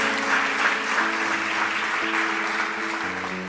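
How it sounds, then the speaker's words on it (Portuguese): A church congregation applauds loudly during a worship service, a thick, sustained wash of clapping over a held electronic keyboard chord, continuing unbroken for several seconds. "Então você pode glorificar e aplaudi-lo bem forte?"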